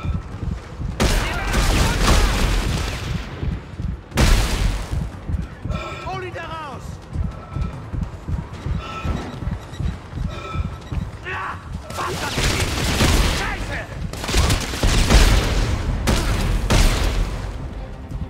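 Gunfire in the sci-fi horror video game Dead Space 3, loud blasts and rapid bursts with booming impacts between quieter stretches, someone talking over the action.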